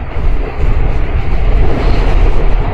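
A nearly empty New York subway train runs steadily with a loud, continuous low rumble and roar, a dense uninterrupted wash of rolling noise with no voices.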